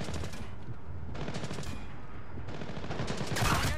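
Rapid gunfire in Splinter Cell: Blacklist, shots coming from above during a co-op mission, a dense continuous burst of reports filling the whole stretch and growing louder toward the end, with no talk over it.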